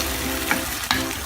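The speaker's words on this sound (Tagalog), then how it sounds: "hayaan lang natin siyang kumulo ng kumulo until lumambot siya ng lumambot" Pork simmering in water in a pot for adobo, a steady bubbling sizzle heard close up with two brief louder pops, no voices.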